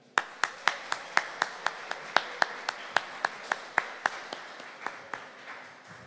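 Slow, evenly spaced clapping, likely from a small group keeping time together, honors tuba player Hélio Pereira at a band concert, each sharp clap ringing out distinctly for about six seconds before gradually softening.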